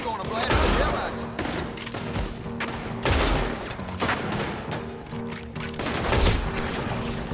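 A gunfight in Red Dead Redemption 2 on PS4 brings repeated heavy shots and booming bursts in uneven clusters, loud and continuous, with character voices shouting over the fire.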